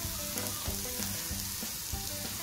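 Egg frying with broad beans (avaraikkai) in a pan for a Tamil poriyal gives a steady, close sizzle with soft stirring scrapes throughout and no talking.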